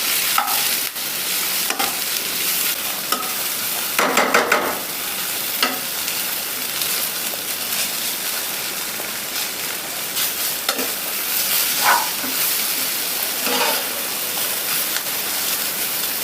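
Grated coconut dry-roasts in a pan while being stirred, giving a steady dry sizzling crackle broken by irregular scraping strokes of the spoon, continuous and close with no talking.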